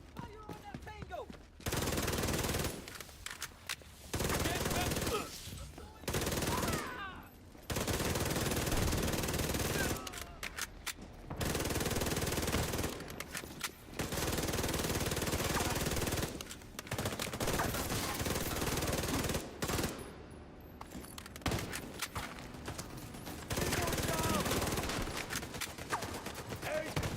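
Firefight in The Division 2 video game, with long, loud bursts of automatic gunfire broken by short pauses and repeating throughout; voices shout now and then over the shooting.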